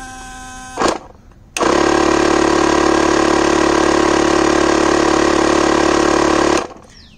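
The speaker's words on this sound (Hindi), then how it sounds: "तो मैं 32 पे सेट करके इसका कंप्रेसर ऑन कर दूंगा।" Amazon Basics portable tyre inflator with its compressor switched on and set to 32 PSI, giving a loud, steady buzzing motor drone that runs for several seconds and then cuts off. A short click and beep come before it starts.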